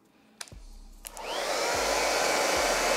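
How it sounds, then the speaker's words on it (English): A blow dryer starts after a couple of clicks and runs steadily close by, heating hair product during a curly red T-part wig install, with a loud continuous whooshing roar and no talking. "heat up the product with a blow dryer"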